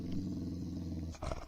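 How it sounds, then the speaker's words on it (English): A collie growls in a low, continuous rumble, moderately close and steady, ending in a short rougher burst. "The collie was growling loudly at a large bush that was shaking."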